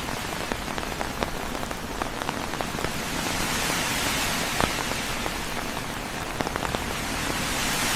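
Steady, dense rain from an AI-generated scene, with a constant wash of drops and scattered sharper ticks as individual drops strike a surface, evenly loud throughout with no voices.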